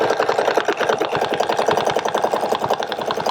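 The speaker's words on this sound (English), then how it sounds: "I'm going to stitch from C to D." Sewing machine stitching steadily along a template line, a loud, close, rapid mechanical rattle at an even pace throughout, no talking.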